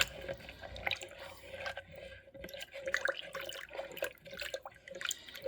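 Yeast stirred into water to dissolve it, heard as faint, close liquid swishing with light drips and small clinks in a steady, irregular rhythm, with no talking.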